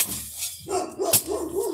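A dog outdoors at a vinyl fence installation barks and yips in a few short bursts nearby, over a steady breezy background.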